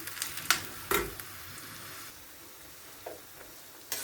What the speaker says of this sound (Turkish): bir su bardağı sıvı yağ eklediğim soğanlarımı tüpte güzelce kavurmaya başlıyoruz arkadaşlar